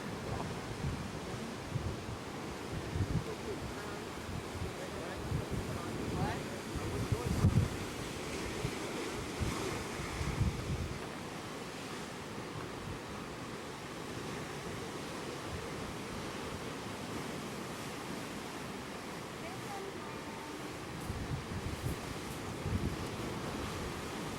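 Ocean surf rolls onto a black sand beach in Hawaii, a steady broadband wash with low rumbling swells and wind buffeting the microphone, louder through the first ten seconds and then easing, with no voices.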